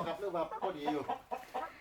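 Backyard laying hens from a small flock of ten give a run of short, throaty clucks in quick succession, close by and fairly soft, with uneven gaps between calls.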